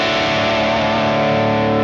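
Crunchy distorted electric guitar tone from a Quad Cortex modeler with reverb, a sustained strummed chord ringing steadily and loud with a wet, effected tail and no voices.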